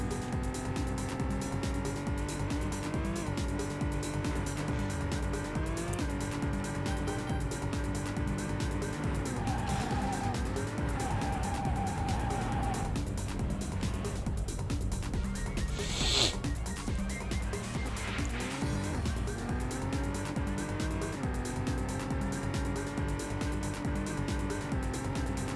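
Cars passing in the Dreamcast racing game Vanishing Point: continuous engine drone with rising and falling pitch sweeps as vehicles overtake, over a steady loud backdrop of game sound, with a brief bright burst partway through.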